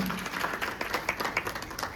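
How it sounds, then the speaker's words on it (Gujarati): Audience clapping at a creators' and influencers' award event, a short burst of dense, fairly close applause from many hands. "તો એકવાર જોરદાર વાળી તાળીઓ હોની चाहिए."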